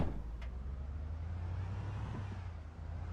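A car engine in the video game Project Zomboid runs as a quiet, steady low rumble that holds evenly throughout, with no talking over it.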